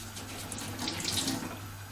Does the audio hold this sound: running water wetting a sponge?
yes